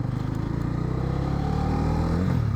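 Bajaj Dominar 250 motorcycle engine at highway speed, a steady low throbbing drone with a rough, vibrating edge and heavy wind noise, rising slightly in pitch toward the end.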